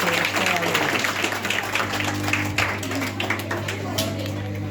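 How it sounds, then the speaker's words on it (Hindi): An audience claps during a science demonstration show, a lively, continuous patter of hands over a steady low hum, with talking mixed in. "चलो ताली बजाओ भाई।"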